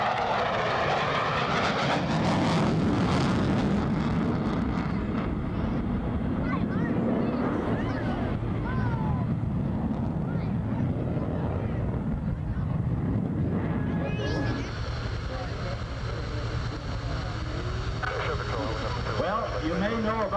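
F-14 Tomcat jet fighter flying past at the 1992 Cleveland National Airshow, a loud rushing engine roar over a lake that swells and then fades, with an announcer talking over a PA throughout.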